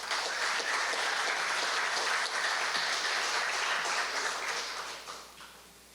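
Audience applause at an indoor awards ceremony, dense sustained clapping from many people that holds steady for several seconds before tapering off at the end.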